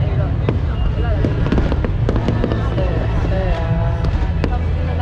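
Fireworks in the Philippines pop and crack in rapid, irregular bursts over a dense, steady rumble, with sharp nearby bangs standing out against continuous distant explosions and some voices mixed in.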